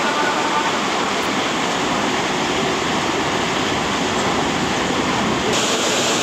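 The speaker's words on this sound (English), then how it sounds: "The flow of water is rather strong" Strong rushing water in a canal lock chamber roars steadily and loudly throughout, a dense continuous churn with no voices.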